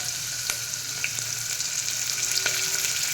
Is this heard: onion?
yes